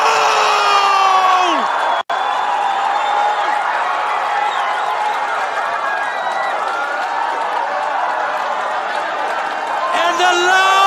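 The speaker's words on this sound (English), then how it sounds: "And the loud PNG crowd that is here celebrating." At the 2023 Pacific Games, a large Papua New Guinea crowd cheers and roars loudly and continuously, with whoops rising above the din.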